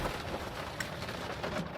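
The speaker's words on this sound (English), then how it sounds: "It is pouring on me right now." Heavy rain pouring down outdoors, a dense, steady hiss of drops close around, loud and unbroken, with no voices.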